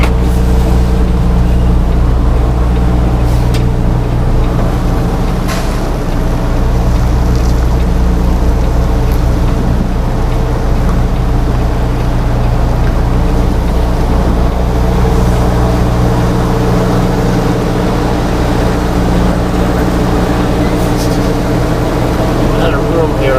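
Semi truck tractor engine idling and revving low while maneuvering the rig into a jackknife position at a pickup in Whittier, California, a loud continuous diesel rumble heard from inside the cab, with a voice talking over it.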